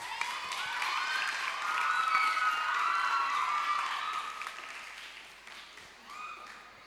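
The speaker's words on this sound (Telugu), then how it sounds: "నాన్న ప్లీజ్ క్లాప్" Clapping from a crowd at a church Vacation Bible School closing-day program, a sustained burst of many hands that swells, then gradually tapers off, with some voices mixed in near the end.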